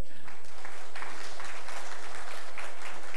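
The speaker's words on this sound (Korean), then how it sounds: "우리 박수로 한번 환영하겠습니다" A church congregation claps steadily in welcome, a dense burst of applause sustained throughout with no voices on top.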